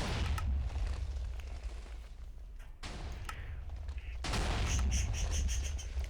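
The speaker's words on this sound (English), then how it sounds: "a cannon that shoots more accurately with one shot, or on the contrary, with a spread 4 TNT shot" An automatic TNT cannon in Minecraft fires a spread of four TNT, with heavy booming explosions that come in overlapping rolling bursts, loud and close, each thud blending into the next.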